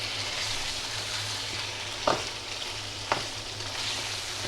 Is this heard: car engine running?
no